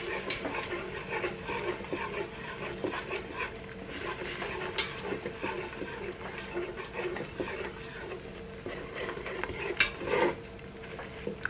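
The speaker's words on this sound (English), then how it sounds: "So just keep stirring, and it's going to all come together and become a nice smooth sauce" A spoon stirs flour and milk into a thickening sauce in a pot for cream of broccoli soup, making a continuous soft scraping and sloshing close by, with a few louder knocks.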